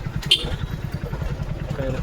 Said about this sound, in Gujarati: ગાડી છે ટ્રેક્ટર